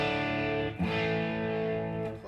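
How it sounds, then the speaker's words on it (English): Electric guitar played with a light crunch distortion, a classic rock amp tone set up for a beginners' lesson, ringing sustained chords with a brief re-strike partway through, loud and alone. "If I dig into it, that's a light crunch,"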